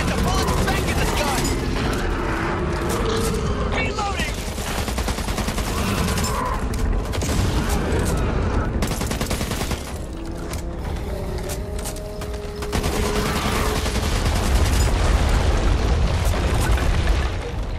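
Rapid automatic gunfire and booming blasts in Back 4 Blood, sustained loud volleys throughout with bursts and mechanical clatter, mixed with game voices.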